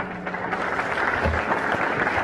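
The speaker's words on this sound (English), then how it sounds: "Please give a big round of applause." An audience applauds at a community awards evening in Turlock, California, a dense steady clapping that fills the whole stretch at close range with no voice over it.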